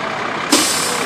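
A fire engine from the New Hampshire Fire Department passes in a holiday parade, its steady engine noise cut by a sudden loud air-brake hiss halfway through.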